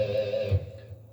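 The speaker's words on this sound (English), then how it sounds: "Little pinched harmonic always sounds cool." Short electric guitar phrase on a deeper, lower pitched riff, with a sustained note, heard alone and fairly faint, decaying after a brief accent.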